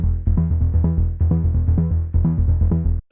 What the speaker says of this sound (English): It's an Omnisphere patch called Bass in Love that I've tweaked a little bit,